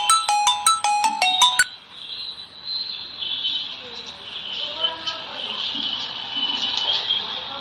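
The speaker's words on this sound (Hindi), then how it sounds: "किसी का मोबाइल क्या" A mobile phone ringtone rings in a courtroom hearing: a short, loud run of bright repeating electronic tones opening the clip, then cut off, leaving quiet room noise.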